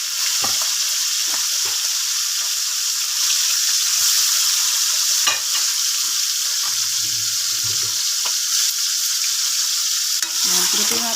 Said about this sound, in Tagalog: piprituin muna natin yung atay